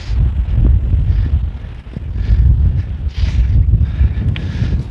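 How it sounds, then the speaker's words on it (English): Strong gusting wind batters the microphone on the foreshore of the River Humber at Old Hall, a loud continuous low roar and buffeting with no other sounds standing out. "I hope you can hear with this wind. It's been very windy today."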